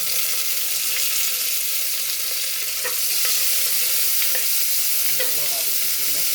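Onions, mustard seeds and curry leaves fry in a pan for soya kurma, a steady close sizzle with occasional stirring clinks, no talking.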